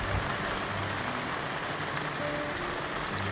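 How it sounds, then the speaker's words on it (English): Steady rain patters on a palapa's thatched roof in a campsite by a lagoon, an even, close hiss of drops with no voices. "I love the sound of rain on the roof of my palapa."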